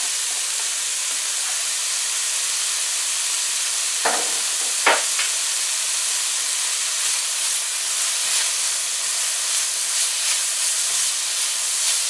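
Crushed garlic and pepper with chopped scallions, onions and celery cook in a pot for Guyanese raisin rice. A constant hissing sizzle runs throughout, broken by two sharp clanks of a utensil midway.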